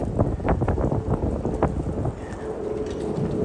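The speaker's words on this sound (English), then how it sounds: "Oh, it is windy." Gusty winter wind on a New York City street before a snowstorm, buffeting the microphone in rough bursts, with low rumbling thumps and a faint rushing background.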